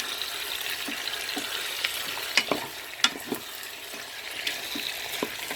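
Quails fry in a Cookeo multicooker and are turned now and then, giving a soft steady sizzle punctuated by a few clicks and scrapes of stirring.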